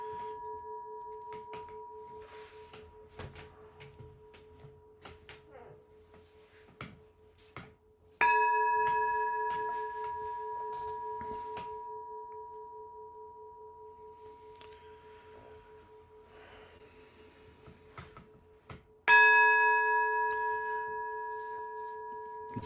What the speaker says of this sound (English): The sound of the temple bell, and there's nothing else in the world.